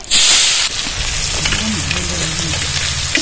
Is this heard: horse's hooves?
no